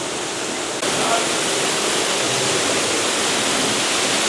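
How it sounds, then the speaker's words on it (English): Waterfalls pour along the Manta roller coaster queue at SeaWorld Orlando, a steady, loud, close rushing wash of water that swells slightly after the first second and then holds constant. "You walk through waterfalls."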